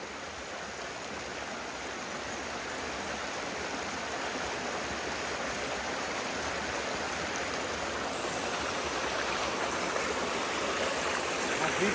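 Ermai waterfall near Dharmasthala roars with a steady, dense rush of falling water, loud and continuous throughout with no voices.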